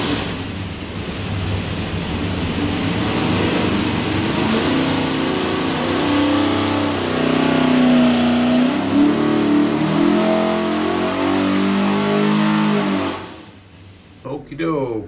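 A 572ci Gen II HEMI V8 with Holley EFI, built for a 1969 Dodge Charger, revs hard on an engine dyno, a loud sustained roar climbing and holding for about thirteen seconds before cutting off abruptly.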